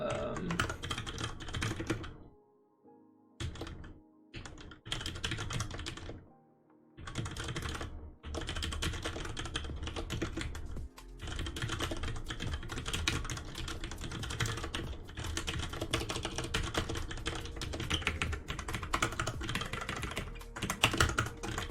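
Steady typing on a computer keyboard while writing code with type annotations, a dense run of key clicks in bursts with short pauses, close and fairly quiet.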